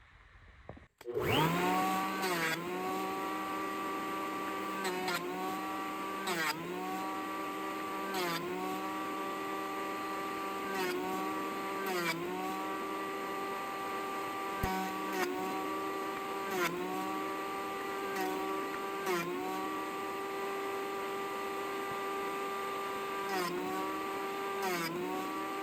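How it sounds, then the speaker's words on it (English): A jointer planer runs steadily while flattening the edge of a claro walnut board, a loud continuous whine broken by repeated rhythmic dips in pitch as the board is pushed through pass after pass. "Now I'm going to try to flatten the good edge on my jointer planer"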